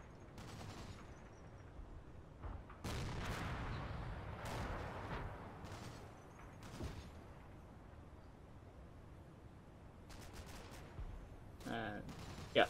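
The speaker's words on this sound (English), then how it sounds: "So some machine gun fire, I think, hitting the half track there." In a war video game, machine-gun fire strikes a half-track in quiet, scattered bursts and thuds, with some distant rumbling impacts and a sharper crack near the end.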